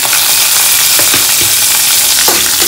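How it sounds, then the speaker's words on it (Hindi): Garlic, green chilli and ginger fry with cumin in hot oil for a palak paneer, giving a loud, steady, close sizzle with a few soft stirring knocks. "इनको भी कुछ सेकंड के लिए भून लेंगे।"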